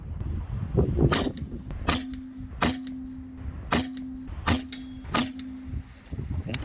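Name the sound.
Air Venturi Alpha PCP air rifle shots over a chronograph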